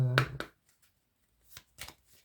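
Oracle cards being shuffled by hand, a few quick papery riffles and soft slaps in short bursts, close and fairly quiet, with a brief voiced sound at the start.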